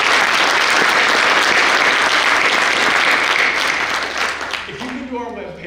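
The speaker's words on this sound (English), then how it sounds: "if we could give him a round of applause" A conference audience claps in a sustained, loud round of applause that gradually fades toward the end as a voice begins to speak.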